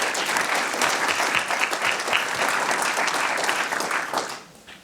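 An audience at a mayor's New Year greeting ceremony in Seignosse breaks into sustained applause, a thick, even clatter of many hands that holds steady and then thins and fades out at the end.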